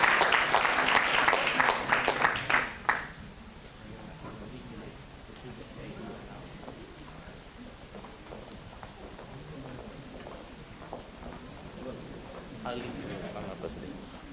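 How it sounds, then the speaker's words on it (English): Applause for the organizers at a world economy conference, heard as a loud burst of clapping for about three seconds that quickly cuts off, followed by quiet room noise and faint speech. "I would ask for an applause to all of them"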